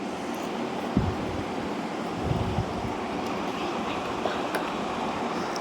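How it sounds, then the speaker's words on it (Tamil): Appalam (papad) frying in hot oil for a pepper kuzhambu meal, a steady broad sizzle running continuously with a few small pops and crackles. "இப்போ நம்ம அப்பளம் பொரித்து எடுத்துக்கலாம்"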